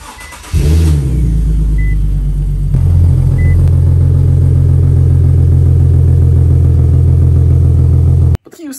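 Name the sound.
car exhaust with electronic exhaust cutouts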